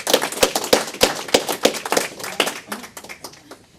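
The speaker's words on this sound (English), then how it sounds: "Let's give them a round of applause." A small group claps at a Memorial Day gathering honoring servicemen, opening with a few sharp, evenly spaced claps that loosen into scattered, uneven applause and fade toward the end.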